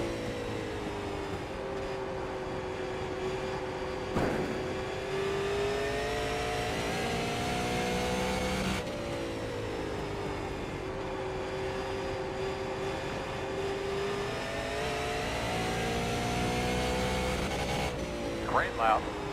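NASCAR stock cars circle the Nashville track, engines rising and falling as they pass in repeated waves, with a commentator's voice talking over the roar.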